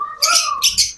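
A lory parrot at a bird sale gives a loud, close, harsh call in two bursts, a screechy squawk that fills the short moment.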